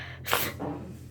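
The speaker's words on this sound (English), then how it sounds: "I need to sneeze right now" A single sharp human sneeze bursts out close to the microphone, a quick hissing blast followed by a brief trailing exhale.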